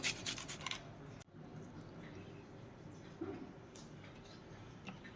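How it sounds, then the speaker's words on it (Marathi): Ginger is grated into a pan for vada rice, making faint, quick scratchy rasping strokes near the start, then soft rubbing in a quiet kitchen. "नुसतं आलं किसून घालूया आपण"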